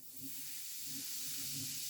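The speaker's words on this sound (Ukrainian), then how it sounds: "І сюди ж я додаю одну чайну ложку соди, гашу її оцтом." A steady soft fizzing hiss, close by and continuous, of baking soda reacting with apple cider vinegar, like a bubbling foamy reaction with faint low rumble underneath.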